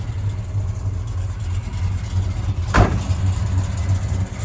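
A Fathom Blue 1971 Chevrolet Chevelle with a big-block engine and a four-speed idles nearby, holding a steady low rumble with one brief louder blip toward the end.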